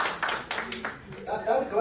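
Scattered, half-hearted clapping from an audience at a live inaugural event, a few loose claps in uneven bursts, with a voice speaking alongside.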